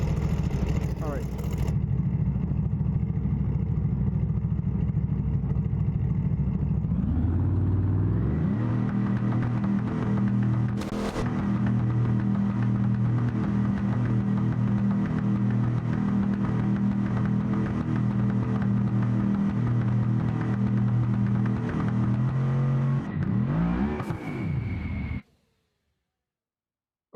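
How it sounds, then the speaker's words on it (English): A loud drag race car engine roars, then climbs steadily in pitch through stepped revs as the car launches down the strip at Bradenton Motorsports Park, cutting off abruptly into silence after about twenty-five seconds. "We're gonna launch the car."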